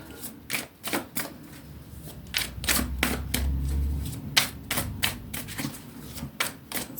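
Tarot cards being shuffled by hand, a series of crisp riffling bursts and soft slaps coming in an uneven rhythm, close and fairly quiet, with a low rustle in between and no speech.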